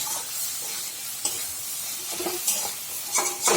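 A ridge gourd mixture is stir-fried in a pan, with a steady oily sizzle and occasional scrapes and clinks of a spatula stirring, close and alone without talk.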